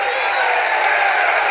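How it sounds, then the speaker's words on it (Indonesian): A crowd at an Indonesian political rally for Anies Baswedan cheers and applauds, a dense continuous roar of clapping and shouts throughout. "Tepuk tangan yang meriah."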